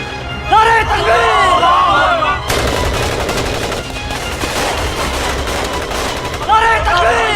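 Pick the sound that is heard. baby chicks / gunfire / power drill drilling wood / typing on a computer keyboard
gunfire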